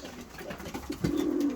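Young blue-bar racing pigeons coo inside a loft, soft throaty calls building into a louder, sustained coo near the end against a faint background hiss.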